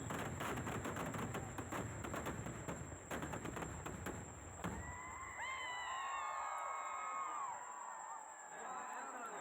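Daytime fireworks crack in a rapid, dense string of sharp bangs, then the explosions stop and a crowd's voices and whistles carry on.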